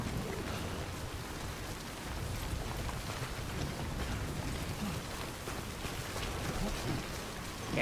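Steady rain pours down in a video game forest, a dense, even hiss of drops hitting the ground and leaves, fairly quiet and unbroken throughout, with no voices over it.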